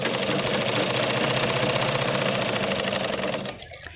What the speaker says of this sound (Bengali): আবার ডবল সেলাই দিয়ে দিলাম ধার দিয়ে।